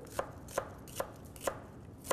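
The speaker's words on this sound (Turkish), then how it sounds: "ince ince doğradık." Onion is finely chopped with a knife on a board for an Anatolian dish, five crisp, evenly spaced chops at a slower, unhurried pace, fairly quiet and close, with no voices.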